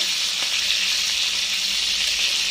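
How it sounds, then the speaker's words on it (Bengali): Pointed gourd (potol) pieces frying in oil in a pan give a steady, loud, close hiss of sizzling with no pauses and no voices. "আরেকটু লাল করে ভেজে নিলে ভালো লাগবে, তাই আমি আরেকটু ভেজে নেব।"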